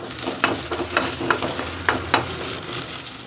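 Okra sizzles steadily in a hot pan while a spoon stirs it, scraping the pan in several distinct strokes.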